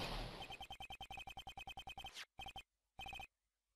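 A retro mobile phone rings in the Phoenix Wright: Ace Attorney – Trials and Tribulations video game: a fast run of bright electronic beeps, then two short bursts after a pause, loud and clean with no talk.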